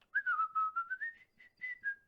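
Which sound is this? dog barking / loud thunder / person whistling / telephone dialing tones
person whistling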